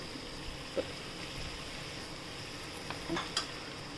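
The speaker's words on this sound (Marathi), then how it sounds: "आपण आता सगळ्या भाज्या टाकून घेऊया" Onion, cabbage and other vegetables stir-fried in oil for idli manchurian, a soft steady sizzle with occasional faint scraping taps of the spatula against the pan.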